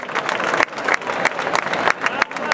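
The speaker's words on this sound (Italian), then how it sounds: "Elisa, facciamo un applauso ad Elisa, la piccola Elisa." Crowd at a rugby club team presentation clapping for a young player, loud and close, fast dense applause with choppy surges and brief dips.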